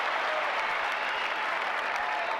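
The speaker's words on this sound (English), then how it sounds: "Now the crowd getting behind Roddick." Spectators at the 2003 US Open tennis semifinal between Nalbandian and Roddick applaud and cheer in a sustained, dense wash of clapping and crowd noise, steady and loud throughout.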